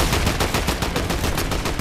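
Rapid automatic gunfire in Fortnite, a dense continuous stream of loud, closely spaced shots with no pauses, heard alone without speech.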